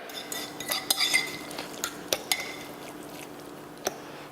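A utensil stirs mushrooms into a paleo meat sauce in a pan, giving a scatter of light scrapes and clinks. A few sharper taps stand out against a quiet, faintly hissing background.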